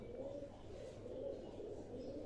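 Old pigeons in a loft coo softly, making faint, low, rolling calls over a quiet, steady background hum.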